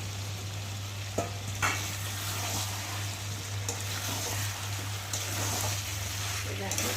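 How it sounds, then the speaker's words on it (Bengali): Chicken with pre-fried potatoes being sautéed and stirred in a pan at home, giving a steady sizzle with occasional scraping stirs, close and moderate, under a constant low hum. "এখন আমি ভেজে রাখা আলুগুলোকে দিয়ে আর একটু ভালোভাবে কষিয়ে নেব"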